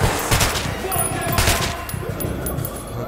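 Rapid gunfire in the video game Metro 2033, a quick close volley of shots over about three seconds with a faint murmur of voices beneath.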